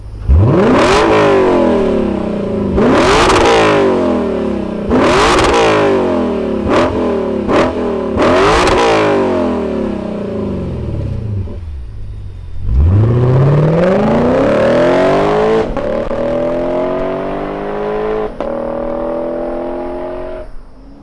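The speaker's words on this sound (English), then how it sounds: "let's fire this thing up with that Invidia catback exhaust and hear what kind of eargasm we're gonna have." A 2023 Lexus IS 500 F Special Edition engine with an Invidia catback exhaust revs hard several times in quick blips, then climbs through long rising pulls with a raspy, loud exhaust note.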